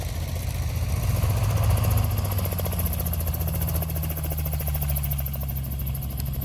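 An AutoGyro MTO Sport gyroplane coming in to land, its engine and rotor making a steady, loud droning buzz with a rhythmic chop that holds constant without pause.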